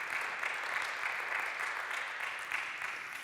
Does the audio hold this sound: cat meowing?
no